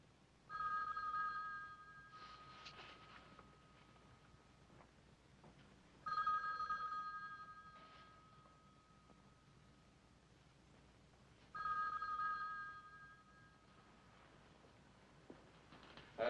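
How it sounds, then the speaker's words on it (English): A telephone bell rings in three separate bursts spaced several seconds apart, bright and moderately near against a quiet room, with no voices. "That phone's still ringing."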